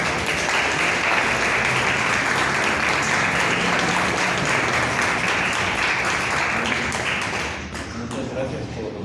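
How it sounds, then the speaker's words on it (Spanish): An audience applauds after architect Manuel Tax's lecture, dense sustained clapping filling the room for several seconds before thinning out near the end. "un gran aplauso"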